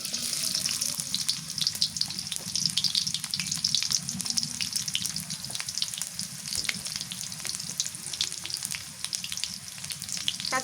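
Onions fry in a pan of soybean and mustard oil, a dense continuous hiss and crackle that stays loud and even throughout.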